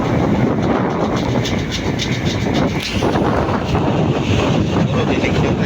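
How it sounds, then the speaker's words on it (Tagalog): Strong wind at sea roars and buffets the microphone in a continuous loud rush, with no let-up. "Puro dinig nyo tayo na maingay ng hangin."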